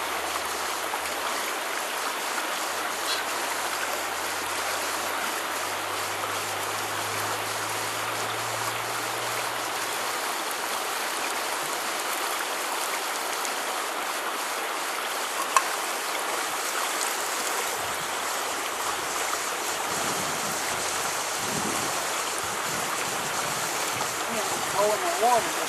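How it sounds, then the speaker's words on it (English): Water trickles and drips steadily through a homemade field filter of rocks, sand and vegetation, a continuous soft wash with a faint low hum early on and a few sharper drops near the end. "I'm just allowing the water to drip through, just as it would in nature, through rocks, through sand,"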